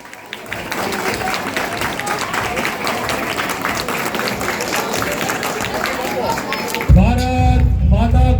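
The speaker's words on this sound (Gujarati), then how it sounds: "દરેકને ખૂબ જ ઉમંગથી, ઉલ્લાસથી, તાળીઓથી એમનું સ્વાગત કરવા વિનંતી છે" Dense, sustained clapping from a large crowd welcomes a guest at an outdoor Republic Day celebration in Budhel, steady for about seven seconds before a loud amplified voice and chanting cut in over the end.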